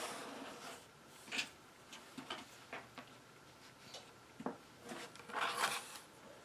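Quilt block fabric for an economy block being trimmed with a rotary cutter and ruler, giving quiet scattered ticks, scrapes and short slicing swishes against a faint background.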